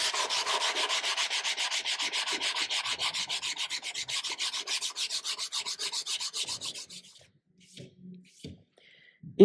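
A knife blade rubbed with 120-grit sandpaper folded over a stick, close rhythmic back-and-forth scratching strokes for about seven seconds, then stopping with a few small handling knocks.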